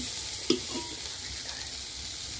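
Okra (ladyfinger) with salt and chilli frying over a strong flame, a steady sizzle with a single utensil knock and light stirring scrapes.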